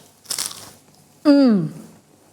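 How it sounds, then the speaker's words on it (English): One crisp crunch of teeth biting into fries, close and brief, followed by a short voiced hum of enjoyment. "Hear that crunch?"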